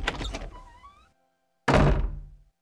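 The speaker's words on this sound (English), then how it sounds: "The door opens." A door in the PS1 video game EMIT slides or thunks open in two short bursts separated by a brief silence, with a faint tonal sweep between them.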